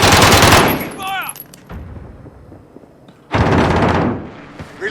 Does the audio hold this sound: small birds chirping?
no